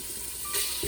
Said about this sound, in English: We're gonna drop in our lamb,